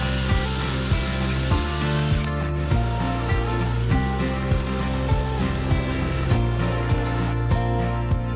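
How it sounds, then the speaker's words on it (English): Drill boring pilot holes into wood blocking for a tin roof install, a continuous loud whirring drone with repeated rhythmic knocks, close up. "We're going to start with some pilot holes so that I don't break the wood."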